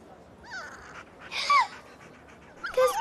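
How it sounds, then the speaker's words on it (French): A dog whimpers in short, high, pleading bursts separated by quiet gaps, close by, with a soft whine at the end. "Mystère, ça va aller, mon chien, ça va aller."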